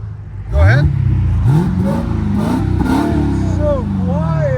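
A Dodge SRT Hellcat V8 with its exhaust valves closed revs several times nearby, rising and falling in quick, muffled pulls, while a person talks over it.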